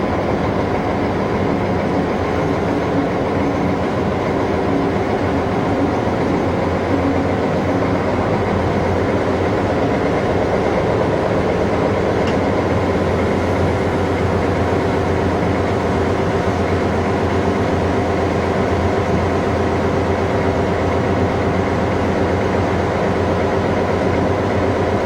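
A White Pass & Yukon narrow gauge train climbs a grade near Skagway with a constant loud rumble and steady mechanical roar, heard from close by with no talk.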